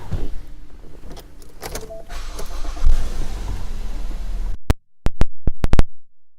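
Power moonroof on a 2015 Ford Fusion whirring open in a steady motorized hum, close inside the cabin, then stopping, followed by a few sharp mechanical clicks.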